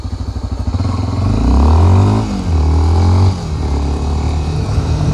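A Honda XRE 300 single-cylinder motorcycle on a test ride, its engine loud and close, chugging at idle and then revving up in rising and falling pulls with steady throttle between them.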